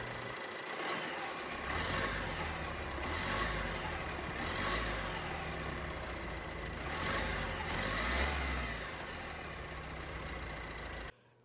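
A 2017 Chevrolet Cruze's 1.6-liter Ecotec turbo diesel four-cylinder runs steadily, a fairly quiet, even diesel drone with gentle swells in level, then stops abruptly at the end.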